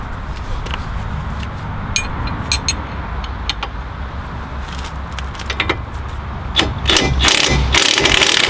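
Impact gun and ratchet working on the 17mm bolts of a BC Racing coilover on a Mitsubishi EVO 5, with sharp metallic clicks and ratcheting bursts close by, ending in a louder, sustained rattling burst.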